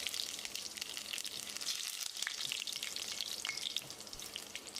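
Dried red chilies with mustard seeds, fenugreek and curry leaves sizzle in hot oil for a red snapper fish curry, a soft steady crackle with scattered pops, fairly quiet and without talk.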